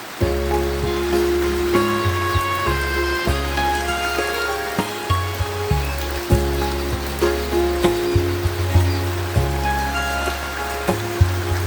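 Steady heavy monsoon rain hisses continuously in a village, with a low droning hum and occasional sharp ticks over the top.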